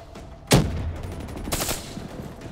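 A loud gunshot from a gun in the video game Call of Duty: Black Ops 3, followed about a second later by a rapid burst of shots that decays into a fading rumble.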